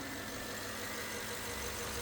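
A 2006 Toyota Tundra pickup's 4.7-liter V8 idles with its hood open, a steady, close, even rumble with a faint mechanical ticking and no voices.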